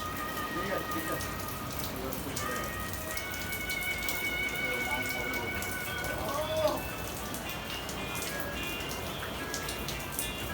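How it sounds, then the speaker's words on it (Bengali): Steady, even rain falls on an evening in Pondicherry near the sea, a dense continuous patter from start to end with a few faint whistle-like tones drifting over it. "ভালোই বৃষ্টি হচ্ছে"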